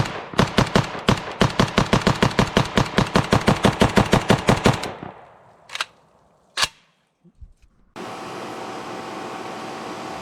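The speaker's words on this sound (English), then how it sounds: "let's run a mag through the SLR" An Arsenal SLR 104FR rifle empties a full magazine in a steady run of about two dozen loud, closely spaced shots, followed by a couple of isolated clanks and then a steady hiss.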